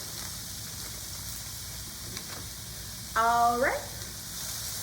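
Mixed frozen vegetables sizzle in hot oil in a pan for a veggie ramen stir-fry, a steady soft hiss throughout, with a person speaking briefly near the end.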